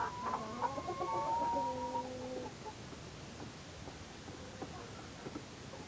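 A mother hen clucks softly up close, with a few brief higher calls early on, then quieter low clucks over a steady background hiss.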